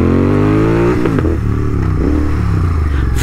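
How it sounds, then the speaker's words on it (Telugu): A modified Royal Enfield GT650 twin idles loudly and close, then the throttle is blipped into quick rising revs that fall back to a steady rumble, with no talk over it. "థ్రాటిల్ రెస్పాన్స్ చూడండి ఒకసారి మీరు, థ్రాటిల్ రెస్పాన్స్ ఇచ్చినారు కదా, ఇమ్మీడియట్ రెస్పాన్స్ ఇచ్చినారు"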